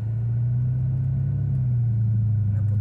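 A Dodge Charger SRT8 (LX) engine gives a deep, steady drone from inside the cabin as it pulls, a constant heavy hum with little change in pitch.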